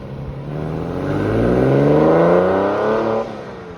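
A Porsche 911 Carrera 4 of the 996 generation accelerates away, its flat engine note rising through the revs, growing louder then cutting off abruptly as it pulls off.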